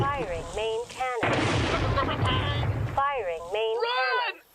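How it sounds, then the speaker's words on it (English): Tank main cannon fires in a game, a loud, dense roaring blast lasting nearly two seconds, set between bursts of voices and followed by more talk. "Firing main cannon."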